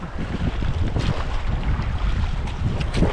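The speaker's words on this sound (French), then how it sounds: "À la traversée du Yukon, il y a le vent qui s'est levé un petit peu, qui est opposé au courant." Wind blowing against the current during a boat crossing of the Yukon River in Alaska, heard as a steady, close, rushing roar buffeting the microphone for the whole stretch, with no talking.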